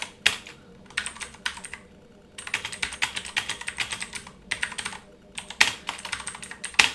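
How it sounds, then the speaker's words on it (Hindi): Hindi text typed on a computer keyboard in the Krutidev font during an online typing test, with rapid clattering bursts of keystrokes separated by short pauses. "तो इस तरह से हमने हिंदी टाइपिंग किया"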